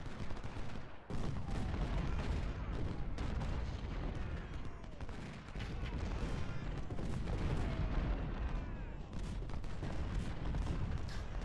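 Cannon booms and crackling musket volleys from a Civil War battle at Sanders Farm in the Ultimate General: Civil War video game. The gunfire is loud, dense and continuous, with overlapping shots and blasts throughout and no voices.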